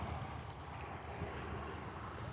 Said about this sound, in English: it's decently flowing water, a couple inches deep, maybe a foot in the middle at the most